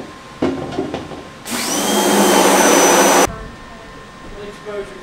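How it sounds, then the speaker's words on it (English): A small vacuum cleaner switches on with a loud, steady whirring roar and a high whine, runs for about two seconds, then cuts off abruptly. "that little vacuum that you guys have"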